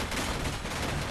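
Spaceship weapons in a video game fire at a Trident-class 4000-tonne ramming destroyer, making a dense, loud, continuous barrage of rumbling blasts.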